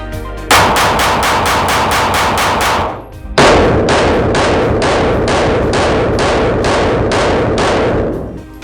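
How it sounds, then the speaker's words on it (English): Rapid pistol fire from a custom SIG P365 with an improved grip, a full ten-round magazine emptied quickly at a target about five yards away: two loud bursts of evenly spaced sharp cracks, split by a brief pause, with no talk. "I'm gonna just dump a mag into the A zone."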